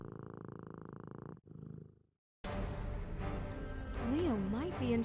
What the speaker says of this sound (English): Oh, the kitty is purring.